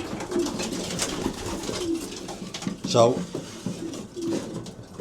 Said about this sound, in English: I am going to pick up every bird and check every bird over